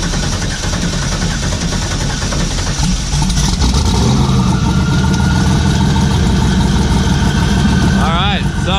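A car with a badly worn clutch, sitting in neutral, runs at a steady idle with a low, even engine rumble throughout; a voice speaks briefly near the end.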